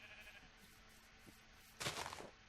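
A sheep bleats once in a blocky survival video game, a short loud burst near the end that stands out over a quiet hum of background noise.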